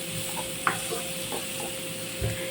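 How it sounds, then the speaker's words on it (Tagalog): Three slices of fresh tomato sauté in a pan with onions, giving a gentle steady sizzle punctuated by a couple of brief spatula scrapes and knocks, close and without talk. "Igigisa lang natin at yung parang mag-caramelize na yung ating kamatis."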